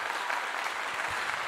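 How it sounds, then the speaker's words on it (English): Hands clap in a steady, fast patter of applause, moderately loud and close, lasting the whole short stretch with no talk over it. "Give you a clap as well."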